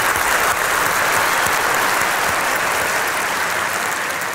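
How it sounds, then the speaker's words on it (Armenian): A stand-up comedy audience claps loudly and continuously, a thick, even wash of applause that fills the whole stretch without a break. "Մի քիչ լավ ծափ տվեք"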